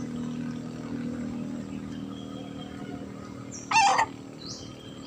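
Chickens are heard with a rooster crowing once, a short, strained call rising above a low steady background of rain-like hiss and distant hum.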